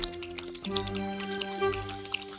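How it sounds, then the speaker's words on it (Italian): A cartoon frog drinks all the water from a stream, heard as a steady run of wet, squishy gulping and dripping effects over a low tonal bed, fairly quiet and without speech. "La rana bevve tutta l'acqua del torrente senza ascoltare quello che diceva il coniglio."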